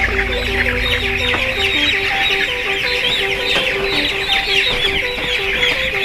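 Chickens cluck and call continuously on a Yogyakarta poultry farm as about 6,000 birds are gathered for vaccination. The dense, overlapping flock chatter is steady throughout, with no talking.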